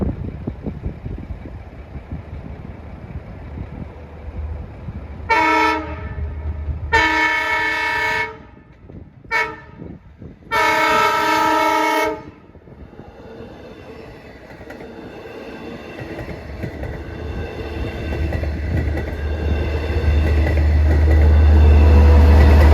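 An express train on the Montauk Branch sounds its horn in several long blasts, two short toots and a final long one, then rumbles and roars louder as it passes close by.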